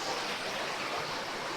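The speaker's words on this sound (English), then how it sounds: "So this is the river that we walk over." A river flowing beneath a footbridge in Bansko, Bulgaria, on a summer walk, a steady broadband rush of water close by with no voices over it.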